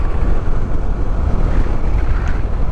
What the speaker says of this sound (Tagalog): Lakas ng hangin dito, ah.